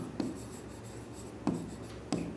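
Chalk or a marker writes a word on a classroom board in a Hindi-language English grammar lesson, giving a faint continuous scratch with three sharp taps as strokes start, close and with no talk.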